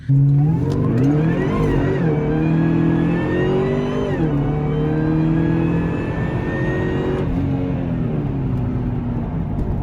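A Cadillac CTS-V V8 roars through a straight-pipe exhaust, revving up toward high RPM, dipping briefly, then climbing and holding again before easing off; loud, close, and continuous with no talk.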